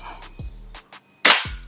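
A single sharp, loud shot from a Ghost Warrior Battosai semi-automatic PCP air rifle cracks out after a short quiet stretch, preceded by faint clicks and handling noise.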